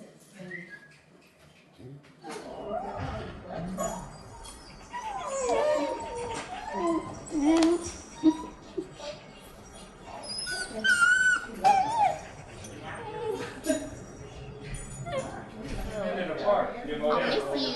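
A sweet little shelter puppy whimpering and yipping in high, wavering whines, with soft howls through the middle, close by and mixed with a person talking to it.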